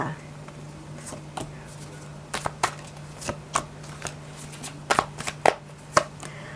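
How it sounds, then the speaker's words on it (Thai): Tarot cards are shuffled for a reading: close, crisp riffling snaps and slaps come in uneven bursts, quiet at first and then denser and louder, over a steady low hum. "เปิดไพ่ดูดวงความรักของชาวราศีกันลัคนากันค่ะ"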